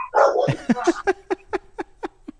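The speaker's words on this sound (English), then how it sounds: "The wife keeps different dogs. I'll put those dogs out here." A household's dogs bark in a steady run of about ten sharp, separate barks, close and fairly loud, with no talking.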